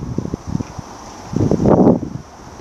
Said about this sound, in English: it's a bit windy, and when it's windy it's not good for my camera